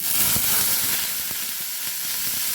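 Beans, eggplant and potato sizzling steadily in hot oil, with soft stirring scrapes and faint spatter, close and continuous with no talk.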